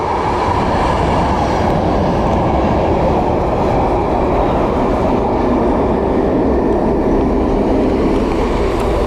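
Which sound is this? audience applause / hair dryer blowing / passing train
passing train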